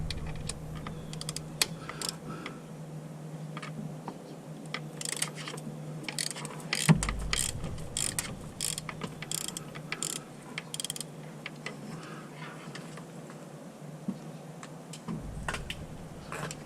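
A ratchet works on the serpentine belt tensioner of a Kia Soul 1.6 in a repeated series of close, sharp clicking bursts, with clanks and pauses between strokes over a low background drone.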